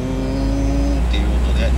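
Manual-transmission car engine idling up at about 2000 rpm before a clutch start, a steady close, loud hum with a faint speaking voice over it.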